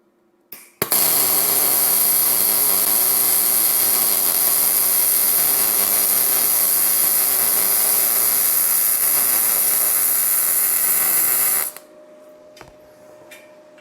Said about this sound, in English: the machine is set up and ready to weld 1/8 inch mild steel